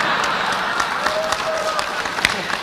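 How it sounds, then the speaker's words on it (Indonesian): An audience at a national dialogue event breaks into steady applause, a dense wash of clapping heard at moderate distance with scattered sharper claps throughout. "Ini yang tepuk tangan belum kebagian aja."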